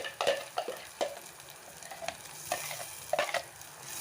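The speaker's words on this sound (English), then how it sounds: "So at this stage, I will put in these chopped tomatoes and the green coriander, and we'll stir this very well." Chopped tomatoes and green coriander sizzle in a pan for tomato sambol while a spoon stirs them, with repeated scraping strokes over a steady frying hiss.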